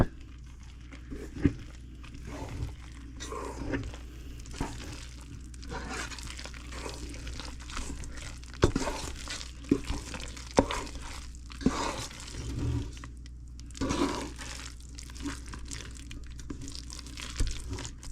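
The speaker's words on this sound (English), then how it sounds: "we're gonna hand mix it until all the flour is incorporated" Hand mixing eggless banana bread batter made with coconut sugar, working in the flour: soft, irregular scraping and squelching strokes close by, with occasional sharper clicks against the bowl and no talking.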